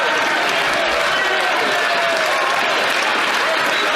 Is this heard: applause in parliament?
yes